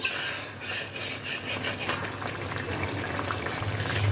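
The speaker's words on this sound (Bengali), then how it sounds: "এবার আমি এর মধ্যে দিয়ে দেব জল" Water poured into a pan of cooked-down spiced curry base for a koi fish and cauliflower jhol, a steady close rushing and gushing with faint clinks of cookware, no talking.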